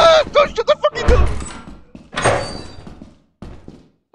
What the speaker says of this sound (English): Don't shut the fucking door!